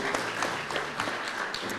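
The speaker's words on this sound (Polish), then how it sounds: "Duże brawa." Audience applause at a 2014 regional awards plebiscite ceremony in Katowice, a brief, even patter of many hands clapping in a large hall, moderately loud and continuous.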